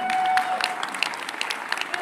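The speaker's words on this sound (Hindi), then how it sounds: "एक बार जोरदार तालियां हो जाए।" Loud, energetic applause from an audience at a press event for the Ramayana film, dense clapping with sharp individual claps standing out over a brief tone.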